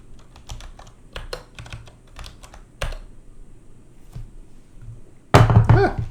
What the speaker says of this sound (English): That was my Topo Chico falling off my table.